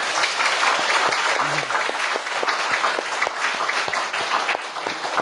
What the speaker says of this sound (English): You should applaud them.